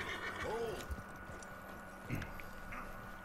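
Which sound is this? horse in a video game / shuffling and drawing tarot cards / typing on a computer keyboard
horse in a video game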